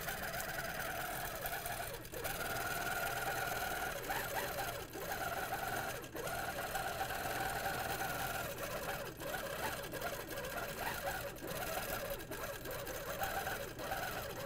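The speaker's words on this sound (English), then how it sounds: "So as I'm stitching along" An HQ longarm quilting machine stitches continuously with a steady, fast mechanical hum and rapid needle rhythm, fairly quiet and unbroken, with occasional faint knocks.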